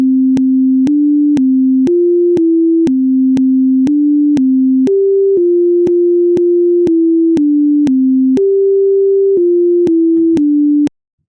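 A sequence of pure sine test tones, each held steady for about half a second at a different set pitch, separated by sharp clicks at every step, loud and clean with no voices.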